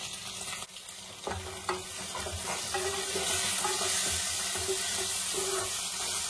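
Vegetables for shukto, including bitter gourd and potato, give a steady frying sizzle from a pan, with occasional scraping and stirring knocks over a continuous hiss; no voices.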